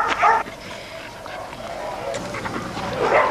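A badly frightened dog rescued from a medical-school research laboratory whimpers and yelps in short bursts, close by, over a steady murmur of background noise.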